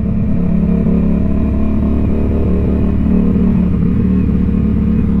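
A CFMoto 450 SR motorcycle engine runs at steady throttle while riding, a loud, close, constant drone whose pitch wavers slightly up and down, with no voices.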